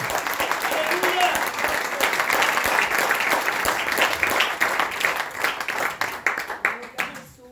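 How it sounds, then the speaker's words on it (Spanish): A church congregation applauds loudly and steadily during a Spanish-language sermon, dense clapping mixed with a few shouts and voices, fading slightly near the end. "Dale un fuerte aplauso al Señor Jesús. Dáselo fuerte."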